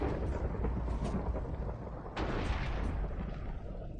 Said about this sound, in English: When lightning hits it